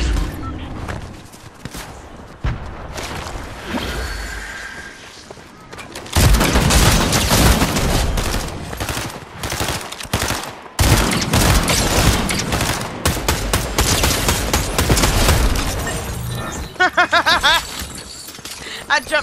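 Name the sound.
gunfire in Fortnite video game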